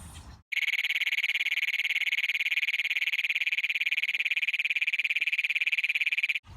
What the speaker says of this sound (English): And then the second toad that you might find while you're catching is the Great Plains toad.